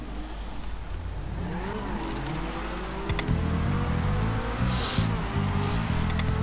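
Cars race in Grand Theft Auto V, engines droning steadily with a rising rev and a rhythmic rumbling pulse in the second half, with no talking.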